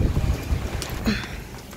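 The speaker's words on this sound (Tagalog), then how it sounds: "Mahangin dito sa amin" Strong gusty wind buffeting the microphone, a loud rushing roar with uneven surges, no voices.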